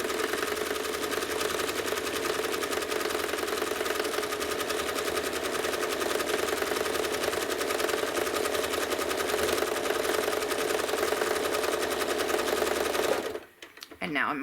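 A sewing machine stitches in the ditch on a quilt, running continuously with a fast, even needle rhythm close by, then stopping abruptly near the end before a short pause.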